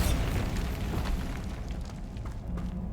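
A Bombarda spell blast in Hogwarts Legacy, a deep booming explosion up front that rumbles and slowly fades out over a few seconds.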